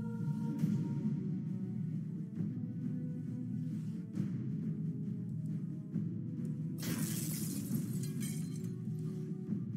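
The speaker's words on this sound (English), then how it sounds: "There's a shatter." Shattering glass effect from the strategy video game Poxnora, a bright crash bursting out late over a steady low game hum, with a few faint clinks earlier, fairly quiet overall.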